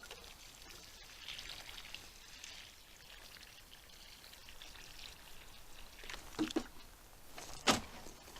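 Water poured onto garden plants freshly given compost, a soft steady trickle and patter running through, with a couple of brief louder splashes near the end.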